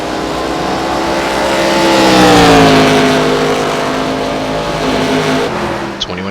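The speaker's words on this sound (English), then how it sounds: "Cars continue to navigate throughout the track, going through turn 3 and 4" Stock cars in an iRacing ARCA Menards Series race at Phoenix roar through the turns, engines droning together and shifting pitch as one swells close and loud, then settles back into a steady pack rumble.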